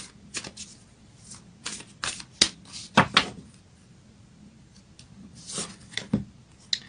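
Moonology oracle cards being shuffled, quiet riffling and slapping bursts coming in irregular clusters, close and soft, with no talking.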